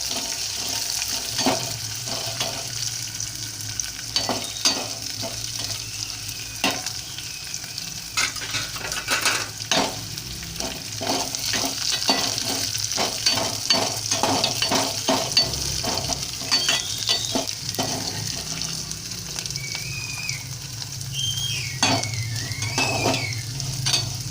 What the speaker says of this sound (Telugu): చూడండి, వేగుతూ ఉన్నాయి. ఇలా వేగాలి.